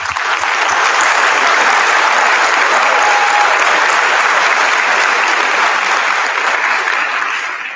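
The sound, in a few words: applause for 8th grade class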